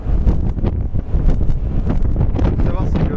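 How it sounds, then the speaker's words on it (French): Strong wind at the Peak in Hong Kong roars and buffets the microphone in loud, continuous, gusty rumbles with no pause throughout. "il y a eu énormément de vent"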